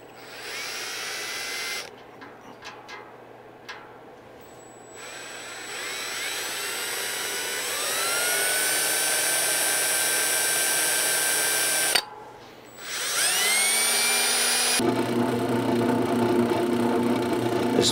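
A power drill whines steadily while boring into very hard metal, its pitch climbing as the motor spins up, with a brief stop before it starts again and grinds on loudly.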